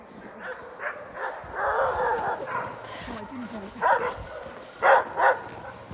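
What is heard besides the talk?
sled dogs barking and yipping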